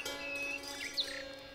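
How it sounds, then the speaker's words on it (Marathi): Birds chirp in short, faint tweets and thin whistles over a quiet steady tone in a rural morning valley scene from a Konkan folk play. "पक्ष्यांचा किलबिलाट"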